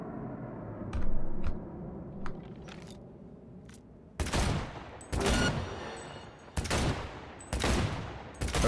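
Gunfire from a weapon in the Cyberpunk 2077 video game: a few faint isolated shots early on, then several loud, sustained bursts of rapid automatic fire with short gaps between them, no talking.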